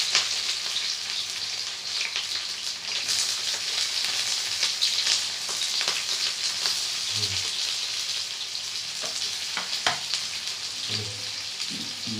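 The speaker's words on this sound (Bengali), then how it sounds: "প্রথমে তেল দেব। তারপর পেঁয়াজ দিলাম।" Onions frying in hot oil in a pan for a meat dish, a steady bright sizzle throughout with occasional stirring clicks and no talking.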